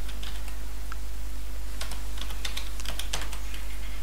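Keys clatter on a computer keyboard in irregular bursts of close, fairly soft clicks over a steady low hum, with no voices.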